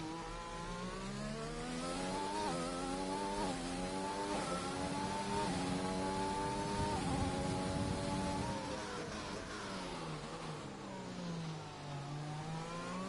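A Formula 1 car engine in a racing video game screams through a hot lap at the Belgian Grand Prix, pitch climbing and dropping repeatedly through upshifts and braking, loud and constant with no talk.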